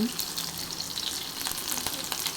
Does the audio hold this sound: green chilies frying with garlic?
yes